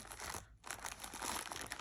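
Plastic wrapping crinkling as it is pulled off a ball of crochet yarn, a close, soft rustle with a brief pause midway before the crackling resumes.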